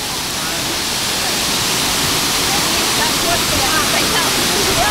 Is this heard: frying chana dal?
no